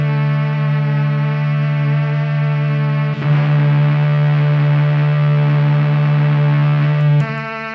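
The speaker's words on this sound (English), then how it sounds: "this synthesizer goes through a process called frequency modulation, which is also known as FM synthesis" A sustained FM synthesizer tone rich in stacked harmonics, holding steady; partway through, the timbre shifts as a second tone joins, then cuts off sharply near the end.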